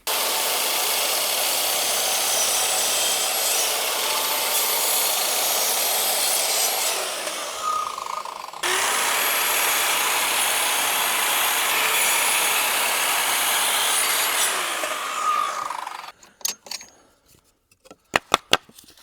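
A power saw cuts a wooden board for a bird feeder in two long, loud, continuous passes with a brief pause between them, ending with a few knocks as the pieces are handled.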